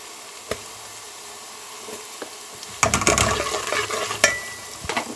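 Garlic-ginger paste with red chili powder and salt frying and being stirred in a pan, a steady low sizzle punctuated by scraping spatula strokes that grow busier and louder in the second half.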